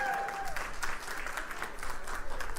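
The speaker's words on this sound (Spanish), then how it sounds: "Aplausos a los dominicanos, sí." Church congregation applauds during a sermon, a fairly quiet but steady stretch of many hands clapping, with a faint voice briefly at the start.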